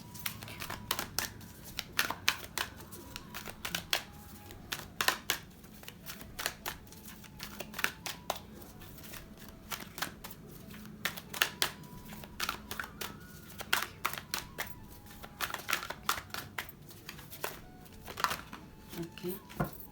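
Tarot cards shuffled and drawn from a deck: continuous crisp riffling and flicking of cards with sharp clicks and slaps, close by, steady over a long stretch while someone talks softly in the background.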